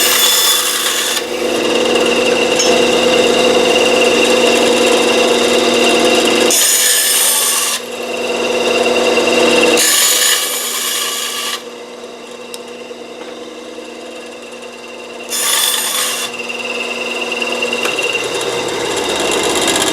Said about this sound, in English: Now we can go ahead and cut this shaft to length